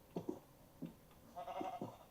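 Minecraft sheep bleat several times in short, soft, nasal bursts with brief gaps between them, faint against a quiet background.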